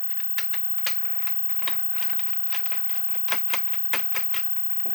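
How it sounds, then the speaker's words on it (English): Screws being backed out of a Nerf Ultra Pharaoh blaster with a screwdriver, giving a run of close, sharp clicking ticks at an irregular rhythm with no talk. "So take these screws out."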